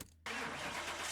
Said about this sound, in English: let's get this one started and see what this twin turbo Coyote sounds like